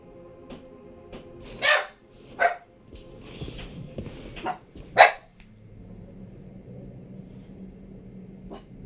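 A dog in the PS5 video game Dragon Age The Veilguard lets out a few sharp, loud barks at irregular intervals, with soft whimpers and quiet background sound between them.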